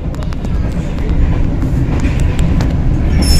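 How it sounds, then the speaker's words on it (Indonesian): Inside a moving Tegal Bahari business class train car, a steady rumble of wheels on track builds slightly, with faint intermittent clicks and rattles throughout. "Jadi saya sekarang ada di kereta api Tegal Bahari bisnis di rangkaian 9"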